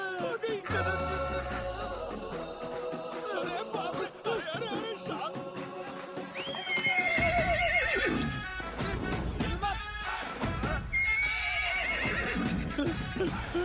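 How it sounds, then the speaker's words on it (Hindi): A horse neighs loudly in a comedy movie trailer, the whinny rising over busy music and sound effects, with a second neigh later in the scene. "घोड़ी बुलाओ।"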